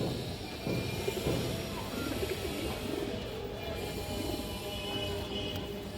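Soft, low pigeon coos repeat steadily beneath a constant rumbling background, the birds fairly close but not loud.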